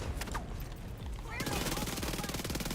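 Rapid SMG fire in The Division 2, a few short shots that break into a sustained fast automatic burst, loud and close, with some talking underneath.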